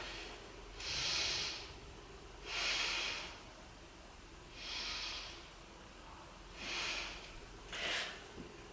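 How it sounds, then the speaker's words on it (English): Breathing during a beginner yoga practice for the wrists: about five slow, deliberate breaths sound close and clear at a relaxed, even pace, each a soft airy rush separated by quiet pauses, without speech. "Let's take 3 breaths here."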